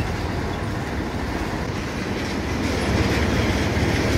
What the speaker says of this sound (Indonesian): Ini dia lokomotif nomor 7.